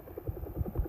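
A low, rhythmic thumping of a helicopter rotor in the video game Car Flying 2, steady pulses repeating about every fifth of a second, moderately loud with no voices.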